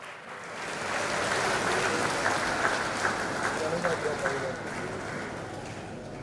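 Applause from an audience at a KNUST anniversary awards ceremony greets an academic awardee, a steady wash of many hands clapping that stays fairly even for several seconds before tapering off.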